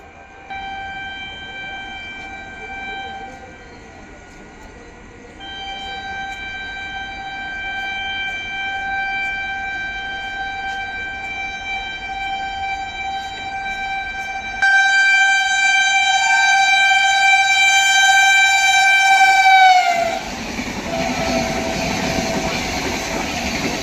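At Etawah Junction, a train overtaking a waiting MEMU sounds a long, sustained horn that swells louder as it nears, then gives way to the heavy rumble and rattle of the train rolling past.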